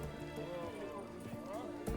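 In the Witcher 3 video game, a horse whinnies over clip-clopping hooves, with voices mixed in around the animal sounds.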